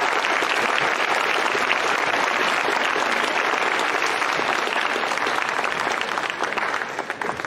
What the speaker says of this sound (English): If everyone can give a big round of applause to our panelists,